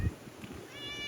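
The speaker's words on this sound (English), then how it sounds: "There's one of them bloody cats" One faint, short meow from a cat at a holiday villa complex, heard at a distance over quiet outdoor background noise.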